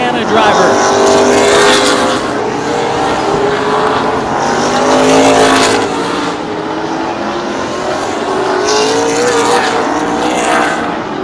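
CRA Late Model Sportsman race car at Plymouth Speedway, one of the final laps of a feature, engine roaring loud and steady down the backstretch and into the turn with pitch shifts as cars pass, under continuous race-announcer commentary.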